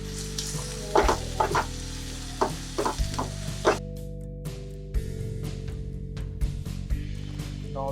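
Onions frying with red chilli, turmeric and coriander, sizzling steadily while a spoon scrapes and knocks against the pan in irregular clusters, close and clear with no talk.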